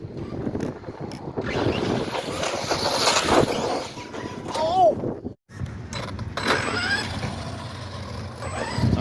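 An Arrma Kraton 4S V2 RC truck drives about outdoors, its motor whining and rising in bursts with clattering mechanical noise, near and fairly loud, with a brief drop partway through and voices talking over it.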